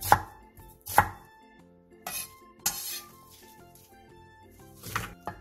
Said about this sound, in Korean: 양파 큰 사이즈 기준 2개를 1cm 정도 두께로 도톰하게 채 썰어주세요